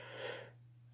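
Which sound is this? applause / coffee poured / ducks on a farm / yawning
yawning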